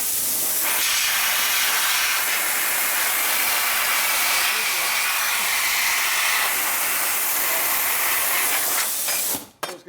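Compressed air hisses steadily through a rebuilt 1979 93ci Harley-Davidson shovelhead motor during an airflow test, a loud, continuous close-up rush lasting nearly ten seconds before cutting off abruptly with a few short bursts.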